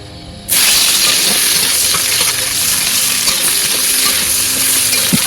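Dried red chillies and onions fry in hot oil, a loud, steady sizzle that bursts in abruptly after a brief quiet moment and then holds as a dense hiss of crackling bubbles.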